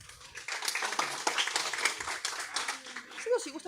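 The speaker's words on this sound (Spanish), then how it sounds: "Aplauso, por favor." Audience applause at a political leadership training gathering in Lima Metropolitana: a dense, steady wash of many hands clapping that fills the room throughout, with a voice speaking over it near the end.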